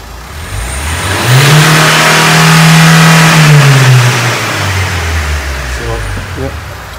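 A Nissan Qashqai 1.5 dCi diesel engine revs up from idle, holds a strong steady roar, then eases back down, heard close and loud.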